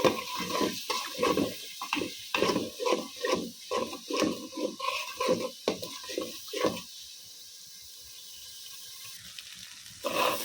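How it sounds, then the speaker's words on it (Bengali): Repeated scraping and stirring of spice paste and rice frying in a pan, with sizzling, rhythmic strokes for several seconds, then quieter frying near the end. "এখন ভালোভাবে কষাই তারপরে এখানে চাউলটা দিয়ে কষাই নেব"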